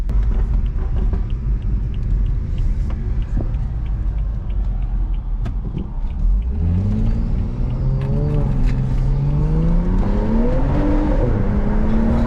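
A tuned 385 hp BMW 335i F30 with an N55 engine, heard from inside the car, rumbles low and steady before surging into a loud, climbing hard-acceleration howl that rises through the gears, with a brief dip and another rise.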